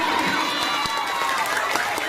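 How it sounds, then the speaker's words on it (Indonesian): Schoolchildren at an elementary school Maulid Nabi celebration clap and cheer together, a dense, steady wash of hand claps and young shouting voices held at an even level throughout. "Tepuk tangan buat semuanya."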